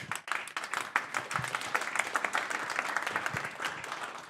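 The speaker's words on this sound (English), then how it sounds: "It's good to get a round of applause in before I say anything." A room full of people applauds steadily, dense clapping holding at an even level for a few seconds before easing slightly.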